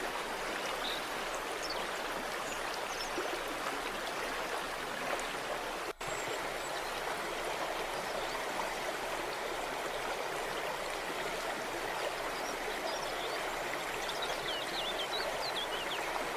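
Water rushes loud and continuous through the narrow ten-metre gorge of the Horizontal Falls, a dense unbroken roar with turbulent hiss and no pauses.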